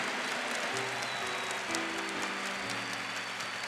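A church congregation applauding during a sermon, a dense continuous patter of clapping with sustained music tones underneath, distant and steady.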